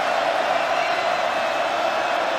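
Boston College football crowd at a home game against NC State, a steady, loud wash of stadium cheering and roar with no single shouts standing out, continuous throughout.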